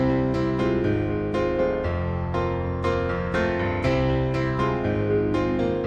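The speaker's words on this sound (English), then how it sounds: "boosting a narrow band bell to the point to where you can clearly hear it and then sweep through the" Piano chords play steadily while a narrow EQ bell boost sweeps through the frequencies, so the tone keeps shifting as the boosted band moves; loud and alone, with no talking.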